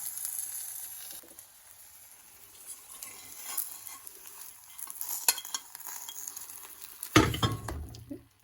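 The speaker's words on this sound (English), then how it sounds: "I'm just going to run my fork around the edge just to kind of loosen it up" A fork scrapes around the edge of a frying pan to loosen fried eggs, a soft scraping and light clinking amid a faint sizzle, ending in a louder clatter near the end.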